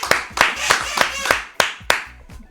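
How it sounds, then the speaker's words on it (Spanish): A few sharp hand claps from a TV talk show studio audience, about six spaced irregularly, close and fairly loud, with quiet chatter between them. "Pero qué lindo aplauso"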